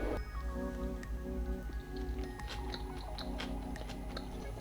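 Someone tastes a raw veggie burger mixture, bound with starch, before it is cooked. Soft, close, moist chewing clicks come in a loose rhythm, quiet and unaccompanied.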